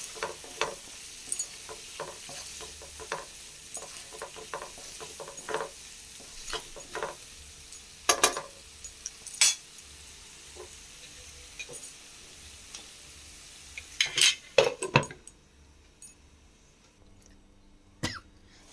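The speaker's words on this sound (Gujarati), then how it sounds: "એને બરાબર મિક્સ કરી દઈશું, અને થોડી વાર માટે ચડવા દઈશું." Onions and potatoes being stirred in a pan for kanda batata poha, with quiet intermittent scrapes and a soft low sizzle, plus a few sharper clatters near the end before it falls nearly silent.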